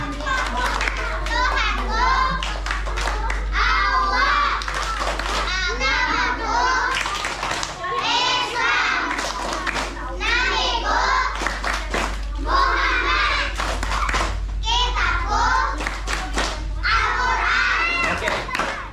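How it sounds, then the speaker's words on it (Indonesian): A group of children performs the tepuk Islam clapping chant, voices chanting in rhythm with bursts of hand claps repeating throughout, lively and close, with a steady low hum underneath. "tepuk Islam."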